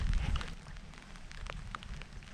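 Rain falls on an Alaskan beach, a soft continuous patter and hiss with scattered brighter drop ticks, a slightly stronger low rumble at the start, and no voices.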